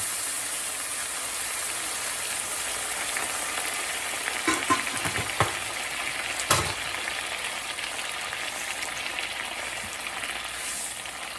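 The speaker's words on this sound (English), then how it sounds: "I'm gonna take my ladle and I'm going to add some broth." Broth ladled into mushroom and tomato risotto cooking in a pan, giving a steady close sizzle and bubbling with a few brief splashy clinks near the middle, no talking.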